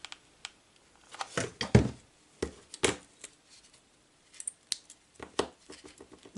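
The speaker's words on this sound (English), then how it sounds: "My little scissors, and we're going to just trim it back right there." Small scissors snip ribbon while trimming a half-scalloped bow: a handful of sharp, close, irregular cuts and clicks separated by quiet pauses.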